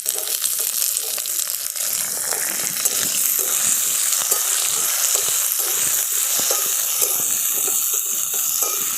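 Chopped yard-long beans hit a hot pan beside lightly fried carrot and green chillies, setting off a loud, continuous sizzle that stays dense and even the whole way, with no voices.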